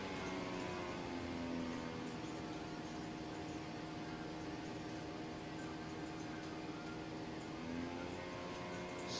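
A Dell Dimension 4600 desktop computer's drive spins with a steady mechanical whir and faint vibrating hum, a constant close drone with a few slight swells, no talk.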